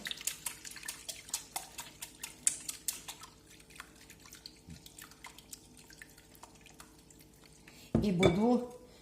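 Egg beaten with water in a bowl, with a utensil clinking rapidly against the side in a quick, close series of light taps, followed by a short vocal sound at the end.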